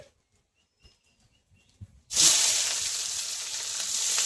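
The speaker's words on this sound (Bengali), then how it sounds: "এবার আমি ফোড়নে দিয়ে দেবো এলাচ, লবঙ্গ, দারচিনি আর তেজপাতা। দিয়ে দেবো পেঁয়াজ কুচি।" Whole cardamom, cloves, cinnamon, bay leaves and chopped onion hit hot oil in a pan, bursting into a loud, steady sizzle after a couple of quiet seconds with faint clinks, then hissing continuously without voices.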